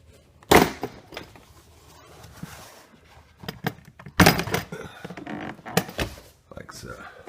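Plastic clips on a 2004 Nissan Maxima door panel pop loose in several sharp, loud cracks and thunks as the panel is pried off, with quieter handling noise between them.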